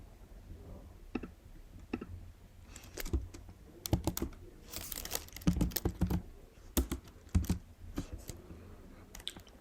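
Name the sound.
typing code on a computer keyboard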